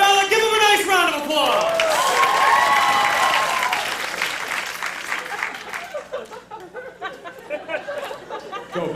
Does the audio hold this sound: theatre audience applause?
yes